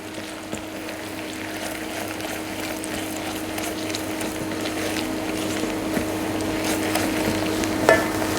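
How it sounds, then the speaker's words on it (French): A silicone spatula stirs caramelizing sugar in a pan, giving a steady scraping and faint sizzling texture that runs continuously at moderate loudness, with a sharper scrape near the end. "On remue sans arrêt avec une maryse, c'est important, pour avoir une cuisson homogène"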